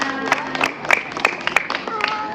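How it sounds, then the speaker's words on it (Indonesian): A school class claps briefly for a student during a physical education lesson on balance movements; scattered, uneven handclaps from a small group, close and somewhat sparse, with voices mixed in. "Oke, tepuk tangan untuk Adina."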